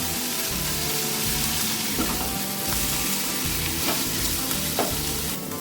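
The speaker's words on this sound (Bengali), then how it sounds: "এবার আরেকটু কষে নেব ভালো করে টমেটো নরম হওয়া অবধি কুচতে হবে" Chopped tomato with salt and turmeric frying and being stirred in a pan until soft, a dense continuous sizzle broken by a few sharp spatula scrapes, close and loud with no talking.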